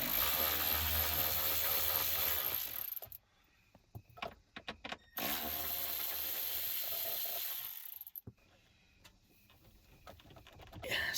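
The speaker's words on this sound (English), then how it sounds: "So now we'll unscrew those and be able to drop this whole pad off." A ratcheting tool spins out bolts on an interior panel of a 1990-1994 Lexus LS400, giving two loud bursts of rapid ratchet clicking separated by scattered metallic taps and clinks.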